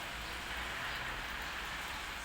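Heavy rain falls in a steady, even hiss throughout, a dense continuous wash at moderate distance with no voices over it.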